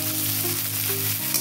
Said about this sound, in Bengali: একটা পেঁয়াজ, বড় পেঁয়াজ আমি ভেজে নেবো ভালো করে, কড়া করে, লাল লাল করে ভেজে নেবো একদম।